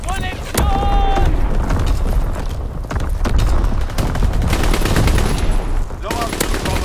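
Heavy barrage of explosions and rapid gunfire in a first-person shooter, a dense continuous roar of booms and shots that never lets up, with game voice callouts over the top.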